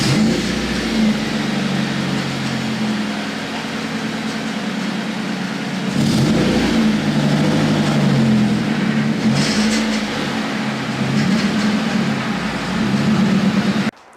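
A Nissan 240SX S13 engine running and being driven up a hillside driveway, a steady mid-pitched idle hum with a surge of revving midway and again near the end, fairly close and loud with no talking.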